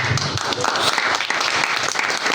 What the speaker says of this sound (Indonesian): Jadi kita berikan aplaus nih untuk bobotoh.